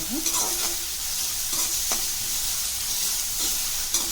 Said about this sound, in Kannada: ಇವೆಲ್ಲವೂ ಚೆನ್ನಾಗಿ ಫ್ರೈ ಮಾಡ್ಕೋಬೇಕು.